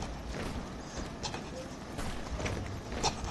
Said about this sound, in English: Look at those horses.